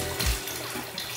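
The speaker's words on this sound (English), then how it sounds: "Now I'm just gonna pour it into my bath." Liquid Weissbier yeast starter is poured into wort held in a bathtub, making a soft, steady splashing trickle with a brief louder gush near the start.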